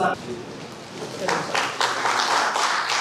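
A crowd at a university event honoring Dr. Babu Jagjivan Ram bursts into loud applause partway through, a dense, sustained clatter of clapping mixed with an amplified voice talking.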